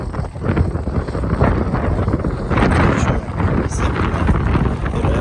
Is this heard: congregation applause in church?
no